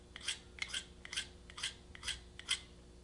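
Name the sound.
knife sharpener sliding up a knife blade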